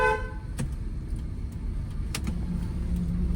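A car drives slowly while turning through a narrow lane, its engine giving a steady low rumble from inside the cabin, with a few short clicks and brief toots over it.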